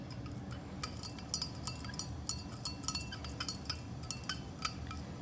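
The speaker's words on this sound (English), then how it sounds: "I'm going to give this another stir." Lab glassware being stirred while a single replacement solution heats, with small irregular clinks and taps of a stirrer against glass over a low background hum, fairly quiet and without speech.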